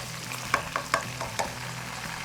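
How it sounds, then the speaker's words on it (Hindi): Chicken frying in a pan gives a steady sizzle, with a few short clinks and stirring knocks standing out above it. No one speaks. "इसको फ्राई करने के लिए हमने छोड़ दिया है"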